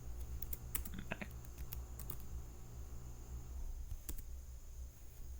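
Typing on a computer keyboard: quick bursts of light key clicks, fairly close and quiet, then a pause before a couple more taps, with no talking.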